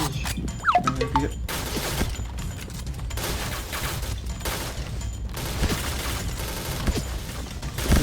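Dense gunfire from a shooter video game rattles in rapid bursts and continuous volleys over a steady background rumble, fairly loud and close, with no talking.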